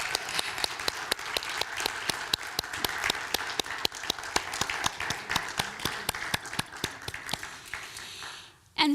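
Sustained audience applause for Kay Taylor at a 2022 annual meeting, many hands clapping steadily for about eight seconds before fading abruptly near the end.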